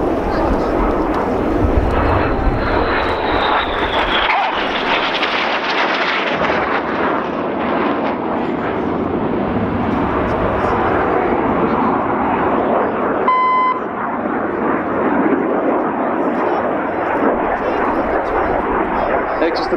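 RAF Red Arrows jets flying a display formation at Dunsfold Wings & Wheels produce a loud, continuous roar that rises and falls as they pass, with a short beep partway through and a voice likely speaking over it.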